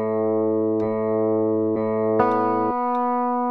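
An initial loop plays back from an Echoplex Digital Pro looper: sustained, buzzy harmonic chords with sharp clicky attacks at irregular points, changing pitch near the end, loud and close.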